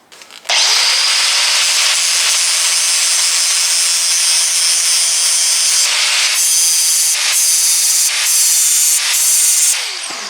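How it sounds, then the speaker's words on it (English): An angle grinder fitted with a thin grinding wheel sharpens hedge trimmer blades, giving a loud, steady high-pitched grinding whine. Near the end the pitch briefly dips several times as the wheel moves between teeth. "using the thin grinding wheel, it was pretty darn easy to follow the contour"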